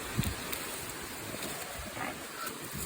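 Steady, roaring wind in Marinduque buffets the microphone, a continuous broadband rush with faint gusting swells and no voices.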